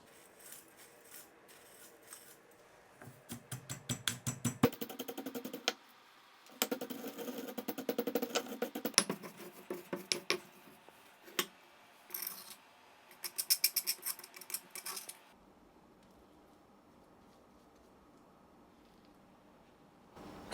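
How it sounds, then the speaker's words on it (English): Cocoa beans being smashed for Modica chocolate give quiet, sharp clicking and tapping impacts in rapid bursts with short pauses, close by, then fading near the end. "Smash all our cocoa beans."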